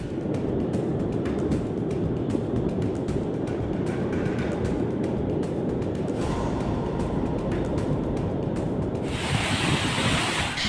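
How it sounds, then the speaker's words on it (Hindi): Floodwater roars steadily down Kakolat waterfall after heavy rain in Jharkhand, a dense, unbroken wash of noise that stays loud throughout and grows brighter and harsher near the end. "अपार जल सैलाब की तरह झरने से नीचे गिर रहा है, निरंतर, बेपरवाह, बेहिसाब और सब कुछ बहा ले जाने को बेताब"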